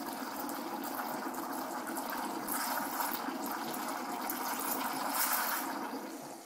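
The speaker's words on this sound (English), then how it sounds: "it will automatically heat up and froth your milk" A Pronto ME 707 coffee machine's steam wand heats and froths milk, giving a steady, loud hiss and rushing gurgle that holds continuously throughout with slight swells, no voices present.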